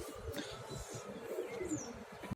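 Pigeons in a loft give soft, low, throbbing coos in a repeated rhythm, close by, with a few faint chirps over a quiet background.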